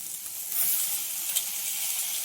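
Potatoes frying in a pan make a continuous close sizzle with a bright hiss, swelling slightly partway through and carrying on steadily, with no voices.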